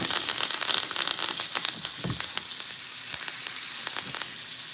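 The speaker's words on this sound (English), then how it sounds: "So now we're gonna toss our butter in quick, and then we're gonna toss our aromatics." Butter and aromatics sizzle loudly in a hot pan beside a ribeye steak, a steady bright frying hiss broken by a few sharp pops and spatters, close up with no talking.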